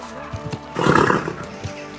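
A horse in the Kingdom Come: Deliverance II video game, soft hoof clops at first, then a loud whinny or snort bursting up in the middle before quieter steps resume.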